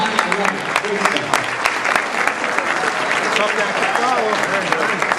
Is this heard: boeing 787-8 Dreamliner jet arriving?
no